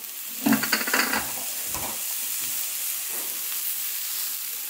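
Tamarind leaves fry and get stirred in a hot pan, giving a steady hiss with a burst of scraping and sizzling near the start that then settles into a continuous fry.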